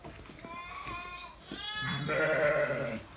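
Bafra sheep bleat close by, a shorter call followed by a longer, louder wavering one, with no talking.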